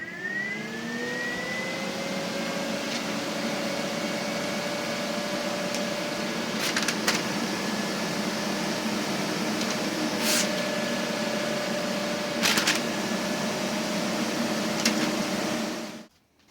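Steady whooshing rush of air from a homemade compressed air dryer, loud and continuous with a rising whine at the start, a few brief hissing bursts on top, then cutting off abruptly at the end.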